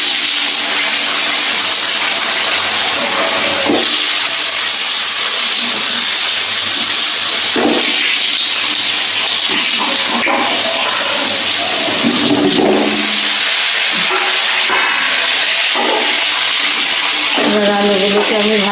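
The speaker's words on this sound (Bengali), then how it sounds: "এবার আলুগুলোকে আমি ভালো করে ভেজে নেব।" Potatoes frying in hot oil with cumin in a home kitchen, a loud continuous sizzle and hiss that fills the whole stretch with small surges, while a voice talks faintly over it.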